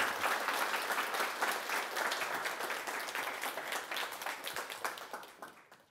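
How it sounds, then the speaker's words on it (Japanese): Sustained applause from the audience for a lecturer at the close of a Shinjuku ward–hosted business talk, a thick wash of many hands that holds steady and then tapers off toward the end. "本日講演をいただきました小坂先生に大きな拍手をお願いいたします"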